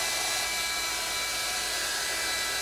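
An electric hair dryer runs indoors, a loud, steady whirring blow close to the microphone that holds constant throughout without pauses or talk.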